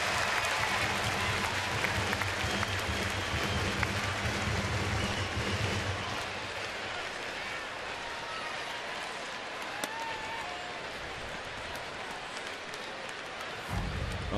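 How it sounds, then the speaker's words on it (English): A baseball stadium crowd in a San Diego ballpark roars after a fan's catch, a dense, loud wash of cheering and clapping that holds steady and slowly eases, with a low rumble fading out midway. "here's why they got a big roar from the crowd"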